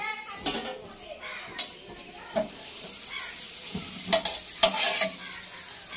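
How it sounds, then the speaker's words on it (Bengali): Papad fries in hot oil with a continuous sizzle while a utensil stirs and knocks against the pan in irregular scrapes. Children's voices and talk carry faintly in the background. "আর এই যে পাঁপড়গুলো ভেজে নিচ্ছি, পাঁপড় দিয়ে খাবো।"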